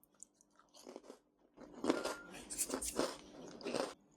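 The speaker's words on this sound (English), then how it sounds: "Delicate little crunch." Crisp crunching bites into a small Spanish Oreo biscuit, close and fairly quiet, a few light crunches and chewing sounds building over a few seconds.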